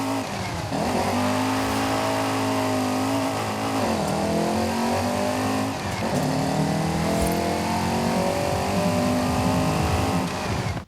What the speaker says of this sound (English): For a small car, it certainly makes a very big noise.